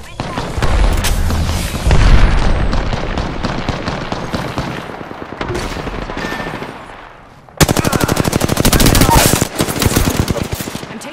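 Rapid automatic gunfire and booming explosions fill a shooter video game, loud and continuous with a brief lull before a sharp, fast-rattling burst resumes, with a voice speaking under the din.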